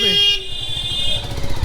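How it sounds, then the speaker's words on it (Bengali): Vehicle horns honk in busy street traffic. A long nearby toot carries through the first part, other horns and engine rumble follow, and the whole scene is loud and crowded. "এত হর্ন, বাপরে বাপ, মাথা ধরে যাচ্ছে।"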